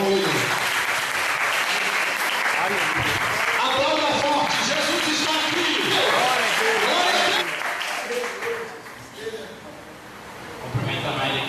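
A church congregation at a Monday worship service applauds loudly and continuously, with voices calling out over the clapping before it thins and dies away near the end.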